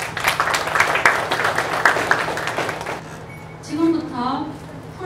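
Audience applause at a ceremony in a cultural arts hall, with steady clapping from a crowd for the first three seconds, then it fades out as a voice begins speaking over the microphone.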